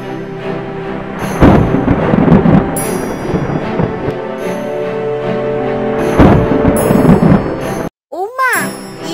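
A cartoon thunder-and-lightning effect in a fairy-tale scene: rumbling booms with bright crackling strikes and chiming tinkles, loud and continuous, briefly cut before a short swooping sound effect.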